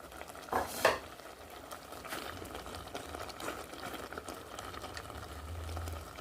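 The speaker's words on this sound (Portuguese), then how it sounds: "aí depois vamos colocar no fogo, para apurar, para cozinhar" Pumpkin cooking down in a pot over a fire for homemade pumpkin bread, stirred with a utensil that scrapes and knocks the pot a couple of times over a steady soft bubbling sizzle.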